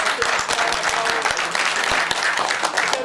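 Sustained audience applause at the closing ceremony of a national photography salon in Merouana, Batna, a dense, steady clapping from a crowd that keeps going throughout with a faint hum of voices.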